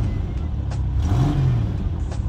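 A lowrider car engine running with freshly installed spark plug wires revs up in a short rising then falling swell over a steady idle rumble, close and loud with no speech.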